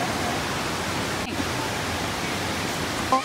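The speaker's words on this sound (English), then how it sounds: "We're at the waterfall." A waterfall at Yosemite near Half Dome gives a continuous broadband rushing roar, steady and fairly loud throughout, with no voices over it.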